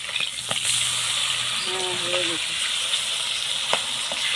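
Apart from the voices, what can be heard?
rui fish frying in oil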